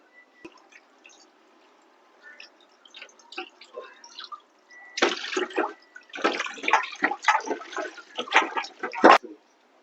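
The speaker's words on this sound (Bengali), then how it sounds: "বন্ধুরা, এবার মাছের মুড়োটা ধুয়ে নিচ্ছি।" A fish head washed under water at a kitchen sink gives scattered small drips and splashes at first, then louder bursts of running, sloshing water from close by.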